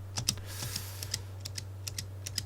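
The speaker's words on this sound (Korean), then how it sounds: "세 번째는 스페이스 클릭 시 약간의 새소리가 납니다" Crisp keyboard key clicks tap along irregularly, close up, with a faint steady hum underneath and no talking. A wired keyboard with an aluminum frame whose spacebar gives a slight squeak when pressed.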